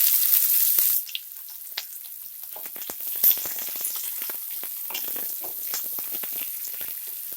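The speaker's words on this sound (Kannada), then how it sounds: "ಈಗ ಈರುಳ್ಳಿ ಹಾಕೊತಾ ಇದ್ದೀನಿ" Onions frying in hot oil with cashews for vermicelli upma give a loud, close, continuous sizzle with crackling pops and occasional stirring scrapes, and no voices.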